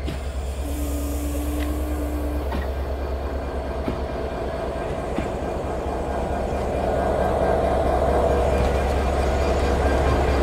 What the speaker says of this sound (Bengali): প্রবেশ করছে আমাদের আজকের লোকোমোটিভ 6301, একটা ব্রডগেজ ডিজেল ইলেকট্রিক লোকোমোটিভ